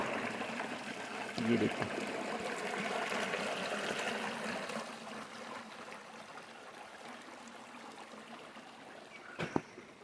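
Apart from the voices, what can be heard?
river flowing in a quiet mountain village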